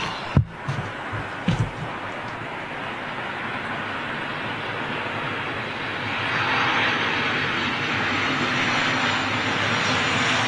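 A fixed-wing aircraft with flaps extended passes by, a broad roar that swells steadily and stays loud toward the end, with a few sharp knocks near the start and no talk.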